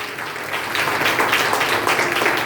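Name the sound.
congregation applause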